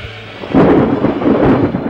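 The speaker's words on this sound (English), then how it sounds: "Amid the reeling of the earth, the flash of lightning, the roar of thunder" Thunder roars loud and close, a heavy rumbling surge that swells halfway through and rolls on to the end, with no voices.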